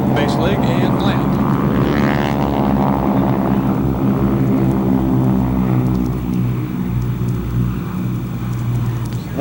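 A PV-2 Harpoon, a twin-engine propeller aircraft, flies at an airshow. Its loud, steady piston-engine drone carries throughout and gradually shifts in tone as it passes.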